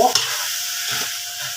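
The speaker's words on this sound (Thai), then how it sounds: "ผัดพริกกากหมู" Chili and pork cracklings sizzle and crackle in a hot pan as they are stir-fried, with a brief scrape near the start.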